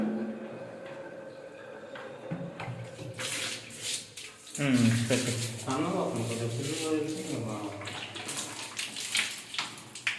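Water runs from a bathroom tap in a house with blocked pipes, a steady rushing splash that grows louder midway and continues under people talking nearby.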